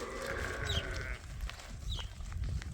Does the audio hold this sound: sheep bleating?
yes